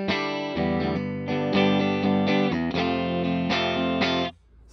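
A Telecaster with neck and bridge pickups together plays a distorted chordal riff through a Heritage Victory combo amp with reverb dwell turned all the way down. The riff is loud and close, with choppy rhythmic strums, then ends in a sudden cutoff.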